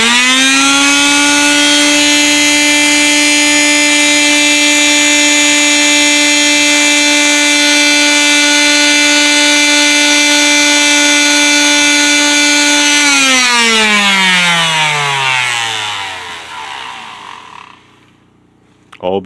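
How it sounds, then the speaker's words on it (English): An electric sander working on a guitar body runs as a loud, steady, close motor whine for about thirteen seconds, then winds down, its pitch falling as it slows to a stop, followed by a click. "Time to sand. Helps if you plug it in."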